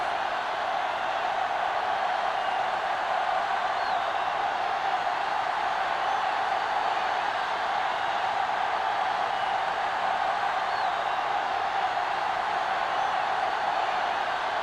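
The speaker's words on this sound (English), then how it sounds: "the crowd in full throat as we get this new season started with the kickoff" Stadium crowd at a football game kickoff to open a new season, Pittsburgh against Carolina, a steady loud wash of cheering and roar that holds without a break.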